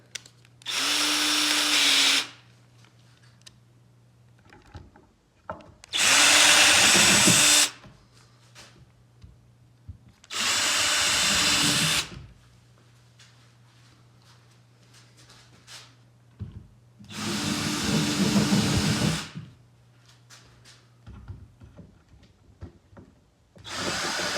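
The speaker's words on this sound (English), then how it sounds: "I'm just going to take a smaller drill bit just to drill a little ways in so I don't crack the wood" A power drill with a small bit drills into a wooden chair leg in four or five separate bursts of a few seconds each, close and loud, with quiet pauses and low hum between.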